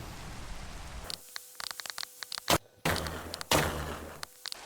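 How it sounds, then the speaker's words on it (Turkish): Rain in Minecraft hisses steadily, broken by sudden cutoffs and sharp clicking taps, like game sound effects cycling on and off. "bir bitmedi şu yağmur ya"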